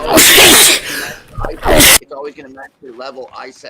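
A single loud, explosive human sneeze bursts out at the start, followed by someone speaking clearly at close range.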